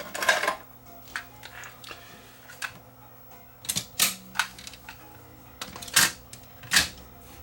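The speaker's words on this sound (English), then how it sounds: "I'll put a tape in here and we'll just run it through its paces." An Alpage FL6000 cassette deck mechanism with a tape loaded gives a series of sharp mechanical clicks and clacks, irregularly spaced, over a faint steady hum, close by.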